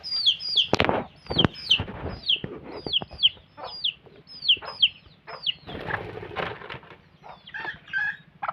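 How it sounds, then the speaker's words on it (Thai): A young rooster calls out in a rapid series of short, high, strained crowing notes, repeated steadily over several seconds with scattered clucks and farmyard bird sounds, close and fairly clear. "อ้าว ขันนะครับ"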